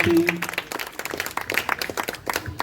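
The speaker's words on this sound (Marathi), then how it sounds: "टाळ्या झाल्या पाहिजेत बंधूंसाठी, मामांसाठी." Audience applause at a joint book launch ceremony, a short burst of scattered hand clapping from a crowd mixed with some voices, fairly close and lively.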